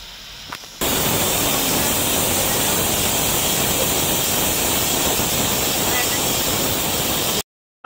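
Pressure cooker venting steam while boiling ridge gourd and potato on a gas stove, a loud continuous hiss that rises suddenly and holds steady for several seconds before cutting off.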